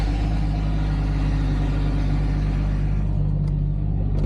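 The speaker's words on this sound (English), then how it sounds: "I got a real good exhaust leak on it" A Jeep ZJ engine with an exhaust leak runs at a steady, loud idle, a deep constant rumble with a ticking, puffing texture, heard close up without talk.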